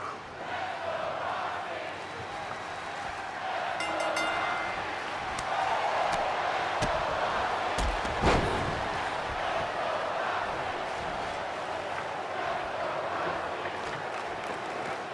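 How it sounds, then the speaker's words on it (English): A crowd in the WWE 2K25 wrestling video game chants during a match. The roar stays broad and continuous, with a sharp accent midway, and a commentator's voice runs underneath. "As crowd is chanting Roxy here tonight."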